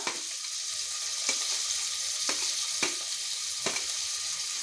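Cumin seeds splutter in hot oil over a steady background sizzle. A few sharp pops break through at irregular intervals. The sound is close and moderately loud, with no talking.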